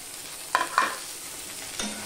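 Chopped potatoes go into a pan of fried onions, giving two quick splashy hits of sizzling and scraping, then a soft steady frying hiss and one more stir near the end. The sound is fairly quiet and close.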